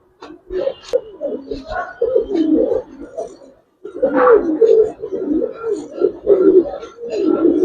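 Two male pigeons coo close by in repeated throaty, rolling phrases, with a brief pause in the middle, loud and clear against a quiet background.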